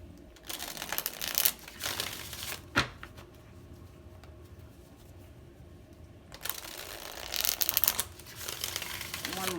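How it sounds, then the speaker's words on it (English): Tarot cards being shuffled close by, papery riffling bursts in two clusters separated by a quieter stretch with a single sharp tap. "One more shuffle."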